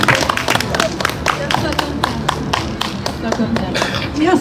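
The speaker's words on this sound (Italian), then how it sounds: "Bravissimo Stefano, un applauso." Dense, steady applause from a crowd at an International Day against Violence against Women event in Marghera, many hands clapping at once, sustained and fairly loud throughout with no voices on top.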